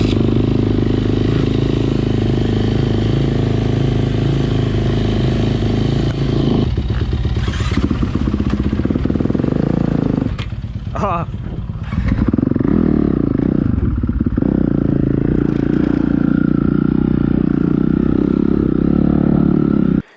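A 2020 Honda CRF dirt bike rides a private track, its engine droning loudly and revving up and down with clattering and thumps midway, no talking.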